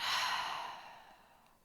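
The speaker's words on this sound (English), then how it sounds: "take a big breath in and a big breath out" A deep breath drawn in and let out during a guided mindfulness exercise, a single close, airy sigh-like exhale that fades steadily over under two seconds.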